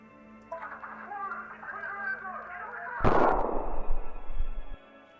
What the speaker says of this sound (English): The abrupt stop of the recording, marked by a spine-chilling sound of a gunshot, signifying the demise of a tormented being